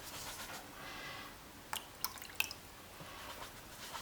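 Water sponged onto the surface of a canvas transfer, heard as a few faint, scattered drips and soft squishes over a quiet background, with no talking.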